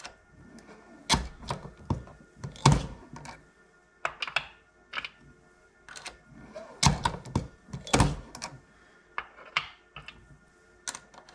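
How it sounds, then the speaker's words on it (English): A reloading press with a crimp die puts a light taper crimp on cartridges, giving irregular sharp clicks and clunks of the handle and ram at uneven intervals, fairly close, with quiet gaps between strokes. "I'm just putting a real light taper crimp on these"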